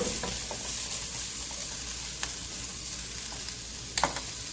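String beans sauté with garlic and ginger in a hot pan, giving a steady close sizzle and frying hiss with a few sharp stirring clicks and scrapes.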